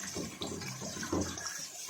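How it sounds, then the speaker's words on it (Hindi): Glass of water poured into a pot of browned chicken curry, a short splashing gush lasting under two seconds, fairly quiet and heard alone. "1 गिलास पानी इसमें ऐड करके इस तरह"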